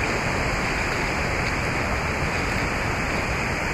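A river flows steadily in a scenic outdoor spot, a loud, continuous broadband rush of moving water with no pauses and no voices over it.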